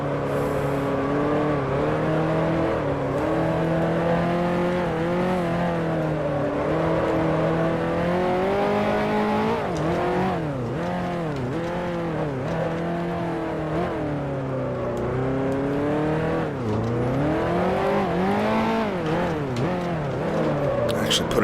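A 1955 Formula One car engine in Grand Prix Legends at Monaco, droning loudly and steadily throughout, its pitch rising and falling through gear changes and corners, close and continuous.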